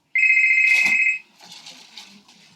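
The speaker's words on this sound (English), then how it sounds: "Raquel, your phone is ringing." Mobile phone ringtone going off during a stage performance, a loud steady electronic tone lasting about a second, cut short and followed by faint rustling.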